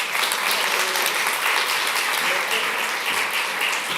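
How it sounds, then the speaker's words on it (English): A crowd applauds steadily, a dense, even clatter of many hands clapping throughout with no voices. "a big applause for her"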